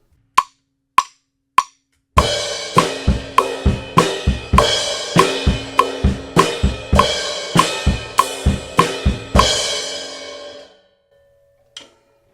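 A drum kit plays the pre-chorus pattern, the ride cymbal's edge struck as a crash; three sharp opening hits, then a steady driving groove of kick, snare and washy cymbal for about eight seconds, ending on a ringing tail and one soft tap.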